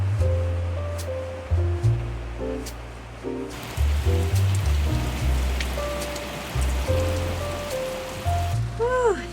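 Heavy rain coming down outside a truck camper during a Sierra winter storm, a steady dense patter on the roof with a faint pitched beeping tone over it and no talk.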